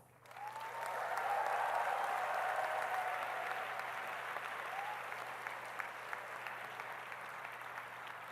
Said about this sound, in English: Your parents deserve much louder applause.